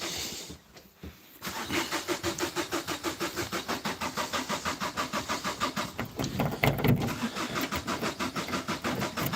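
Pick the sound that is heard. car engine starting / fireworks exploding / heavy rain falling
car engine starting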